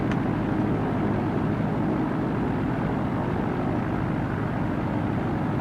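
A small aircraft in an IFR flight simulator makes its landing approach with flaps extended, its engine droning in a steady, unbroken hum at moderate level with no voices.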